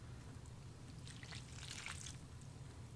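Fish tank water poured from a container into a dry 10-gallon fabric grow bag worm bin, a steady trickling and splashing over a constant low hum, with no talk.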